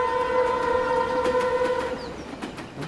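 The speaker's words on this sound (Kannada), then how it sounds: "Train is going." A train goes by with a sustained horn blast that sounds loud and near, layered over rumbling wheels and clanking cars, then fading slightly toward the end.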